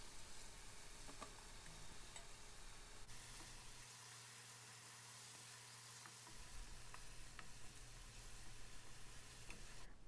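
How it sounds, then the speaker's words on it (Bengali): Onion with ginger and garlic paste sautés in a pan for chicken roast, giving a soft, steady sizzle with occasional stirring scrapes, quiet and close with no talking. "2 টেবিল স্পুন পরিমাণ আদা পেস্ট, 2 টেবিল স্পুন পরিমাণ রসুন পেস্ট দিয়ে ভালো করে কষিয়ে নিচ্ছি"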